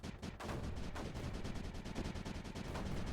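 Mortars fire continuously in the strategy game Creeper World 4, a dense barrage of overlapping muffled thuds and rumbling blasts, quiet and steady throughout.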